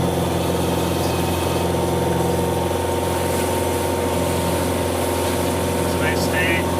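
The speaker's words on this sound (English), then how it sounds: "It's a Coast Guard boat going by." A Coast Guard boat passes at close range in Vancouver Harbour, a steady engine drone and rumble throughout, with water and wind noise mixed in.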